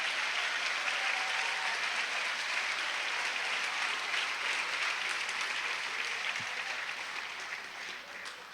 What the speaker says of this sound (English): Can we give all of our chorus and band members a big round of applause?